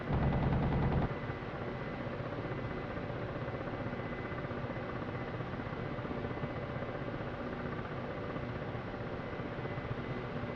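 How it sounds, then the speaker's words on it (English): A Ka-50 attack helicopter in DCS World fires its cannon in a rapid burst at the start, then rotor and engine drone carries on steadily and loud. "Well, we'll just go cannon on you then."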